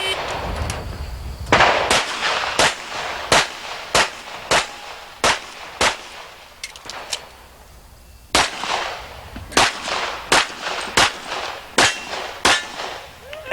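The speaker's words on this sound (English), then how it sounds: "Excellent shooting, Diane Lamb." Pistol shots ring out at a practical shooting championship match, a string of about seventeen sharp, loud reports fired in quick uneven bursts with a brief pause partway through.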